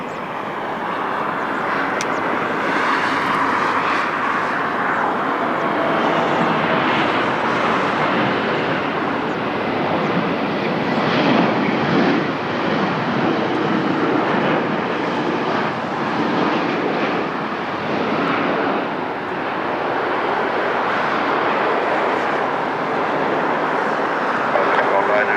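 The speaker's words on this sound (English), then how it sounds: "The flight from Funchal Airbus A330" An Airbus A330 jet arriving from Funchal at Lisbon Airport sends out a loud, sustained engine roar that swells and eases slightly over about twenty-five seconds, with voices speaking at times beneath it.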